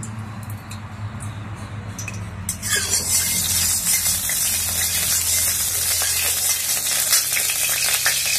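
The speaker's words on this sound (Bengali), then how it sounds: "এখন আমি মাছের মাথাটাকে ভেজে নেব।" A fish head fries in hot oil in a wok, and the sizzle jumps sharply about halfway through to a loud, steady crackle over a low background hum.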